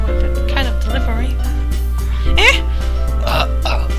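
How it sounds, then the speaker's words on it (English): A person lets out a burp during play of the visual-novel game Doki Doki Literature Club, heard over a steady background of game music and voice. "I burped."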